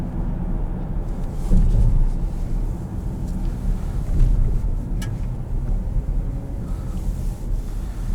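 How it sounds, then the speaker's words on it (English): A 2020 Cadillac XT6 Sport engine drones steadily from inside the cabin under acceleration, with low road and wind rumble and a slight swell as it downshifts. "Where it's going to downshift. See, it's going to hold gears."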